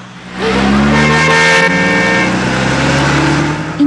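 A car on a road rises to a loud, close engine roar with a steady tonal drone that holds for several seconds and then eases slightly, as in a vehicle passing by, with no speech.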